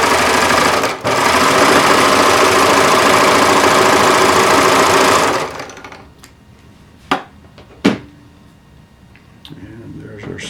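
A sewing machine stitches a seam in a steady, loud, continuous run for about five seconds, then stops, leaving a quiet room with a couple of sharp knocks.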